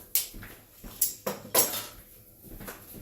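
A small brush scrubbing a metal kitchen utensil, giving a series of sharp clinks and scraping strokes, close and fairly loud, with no talk.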